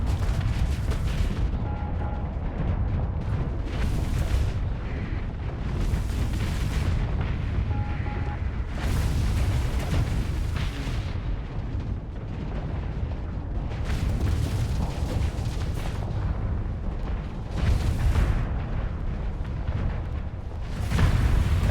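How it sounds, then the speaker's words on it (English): Rift Torpedo launching in a pirate video game, heard as a steady rumbling roar with repeated booming bursts every few seconds, loud and continuous with no voices. "There goes the Rift Torpedo."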